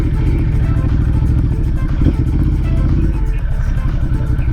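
Motorcycle engine running steadily up close while riding through Death Valley near the Mesquite Flat Sand Dunes, a continuous loud mid-pitched drone with a brief clatter partway through.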